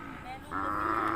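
A Thai native cow at a cattle market lets out a sustained, fairly loud moo that swells and holds, with a low background hum of market activity behind it.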